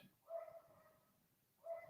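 Two short bursts of dog barking, one near the start and one near the end, fairly faint and separated by a quiet gap with no talking.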